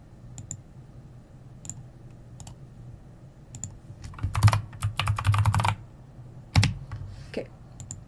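A computer keyboard is typed on up close while a folder is named in Unity: a few scattered keystrokes, then a quick run of clicks and a couple of firmer key presses, with no talking.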